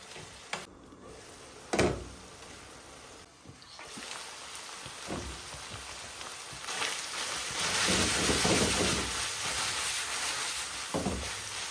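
Minced lamb and onions fry in a pan with a steady, soft sizzle that swells louder midway, broken by a few sharp scraping and stirring knocks near the start.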